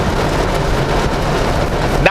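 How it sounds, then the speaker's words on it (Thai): Heavy rain pours down on the road toward Phimai in Thailand, a loud, dense, steady roar with no breaks, ending with a brief sharp sound. "ฝนตกหนักเลยนั่นเนี่ย"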